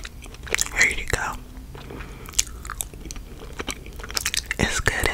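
Double Bubble gum is chewed close to the microphone, with wet smacking, soft crunches and small bubble pops coming in an uneven rhythm, mixed with quiet whispering.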